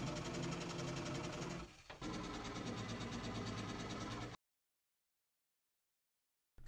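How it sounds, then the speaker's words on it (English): Jigsaw cutting wood for a dog house, a fast buzzing reciprocating whine that briefly dips near the two-second mark, then runs on before stopping abruptly, leaving silence. "and then use the jigsaw again to get to the corners where I couldn't reach"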